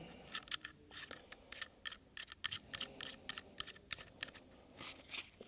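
Sharp mechanical clicks and snaps from a Taurus G3 pistol being function-checked after reassembly, a close, quiet series of irregular metallic ticks and clacks with no talking.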